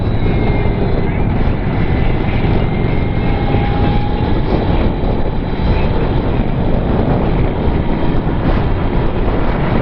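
Victory Empulse TT electric motorcycle riding at about 60 mph in fourth gear, a loud, steady broadband roar of wind and road noise with a faint whine, continuous throughout with no breaks.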